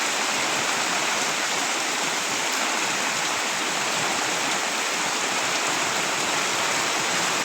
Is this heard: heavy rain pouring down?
yes